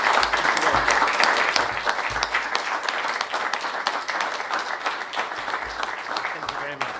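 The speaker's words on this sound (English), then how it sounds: "I think John deserves another round of applause" Sustained applause from an evening lecture audience, dense and steady for the whole stretch, loud and close.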